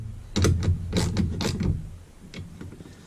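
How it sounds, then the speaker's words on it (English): A 14mm socket wrench snugs a bolt on an LED solar street flood light mount, giving a quick series of close ratcheting clicks and metallic turns that fade to softer, sparser clicks. "Grab your 14mm socket, right there, 14 mil. And we're going to just snug that up."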